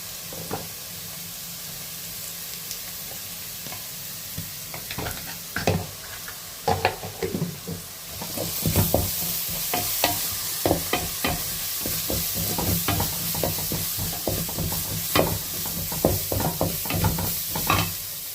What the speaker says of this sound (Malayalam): ഞാൻ നല്ല ഫ്രൈ ആവാൻ വേണ്ടി ഇളക്കി കൊടുക്കാം